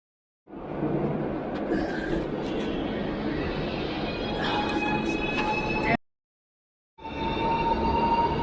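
A train rumbles along the rails for several seconds, cuts off abruptly, then resumes after a short gap, steady and fairly loud with high metallic squeals.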